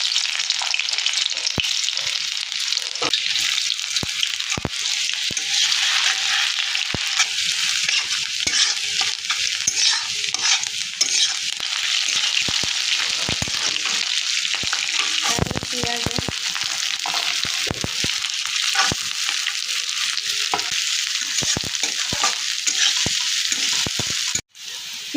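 Oil with garlic sizzles and crackles steadily in a pan for an egg tadka, close and loud, with stirring scrapes and sharp clicks through the frying and a sudden drop at the very end.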